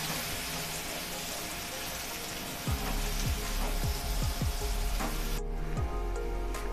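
Finely chopped tomato cooking with onion in a pan, a steady close sizzle and crackle of frying throughout, with a few scraping stirs partway through.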